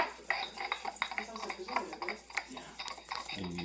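A pestle grinds bentonite clay poultice in a bowl, making a quick run of scraping, clicking strokes up close, with a voice speaking over part of it.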